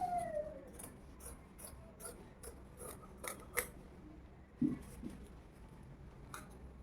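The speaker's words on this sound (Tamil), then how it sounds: "இப்போது இந்த மார்க் பண்ணி இருக்கிற இடத்துல நம்ம கட் பண்ணி எடுத்துக்கலாம்" Scissors cut through old saree fabric along a marked line, a series of quiet, close snips and rasping fabric slices in an uneven rhythm with short pauses between cuts.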